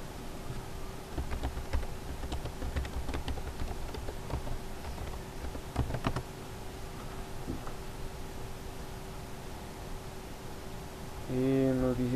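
Computer keyboard typing in a quiet room, a handful of sparse, faint key clicks spread out over time, ending with a louder key press, with a low steady hum beneath.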